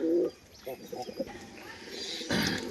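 Pigeons cooing close by, a loud coo at the start followed by softer murmuring calls and shuffling, with a low voice faintly present underneath.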